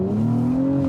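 A 2024 Acura TLX Type S sedan accelerating hard around a corner, a loud, close, sustained engine drone with the pitch gently rising.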